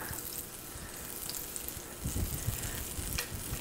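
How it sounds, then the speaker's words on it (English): Butter melts in a pre-warmed saute pan over medium to medium-low heat, giving a faint, soft sizzle that thickens and grows slightly louder partway through. "Add a little bit of butter. Get it all melted in there."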